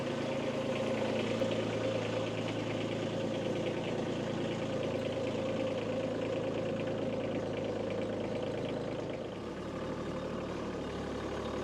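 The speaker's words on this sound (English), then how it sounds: "let's go get the tractor out." A tractor engine idles with a steady, low mechanical rumble and faint knocking, close by, and dips slightly near the end with no talking.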